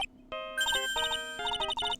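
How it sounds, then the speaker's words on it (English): A cell phone rings in the Phoenix Wright courtroom video game: a bright electronic ringtone of quick repeated chiming notes in short bursts, loud and clear with no talking. "Your cell phone's ringing."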